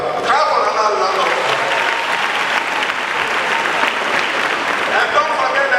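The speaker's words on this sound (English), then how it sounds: "Clap for Nana Adutwum" An audience at a school gathering in Ghana breaks into loud, sustained applause, dense clapping from a large crowd heard close and continuous throughout.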